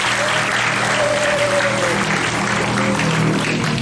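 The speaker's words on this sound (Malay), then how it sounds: "Kasih tepuk tangan yang meriah." Dense, steady applause from a crowd at a student organisation board inauguration at an Islamic school, loud and continuous throughout, with faint voices and a tonal hum underneath.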